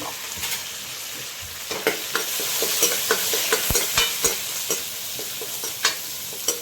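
Garlic fries in ghee with mustard seeds, cumin and curry leaves for palak dal, giving a bright steady sizzle and crackle punctuated by regular close scrapes and knocks of a stirring spoon against the pan, with no talking.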